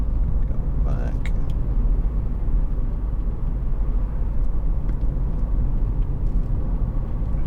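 A 2019 Mazda MX-5 convertible with a 184 PS engine drives along, a steady low road and engine rumble filling the cabin, with a brief higher tone and faint clicks near the start.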